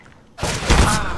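Flashbang grenade thrown in CS:GO, a single sudden loud burst that cuts in after a quiet moment and rings on briefly, close up.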